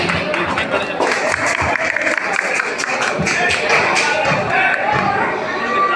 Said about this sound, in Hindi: भाई, तालियां तो बनती हैं।